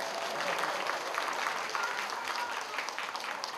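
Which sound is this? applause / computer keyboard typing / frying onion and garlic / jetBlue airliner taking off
applause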